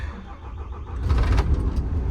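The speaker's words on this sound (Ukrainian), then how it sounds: "заводимо машину, качаємо воздух" A DAF CF tractor unit converted to a tipper truck starts up and idles while building air pressure, a close low diesel rumble that steps up sharply halfway through with hissing and clatter on top.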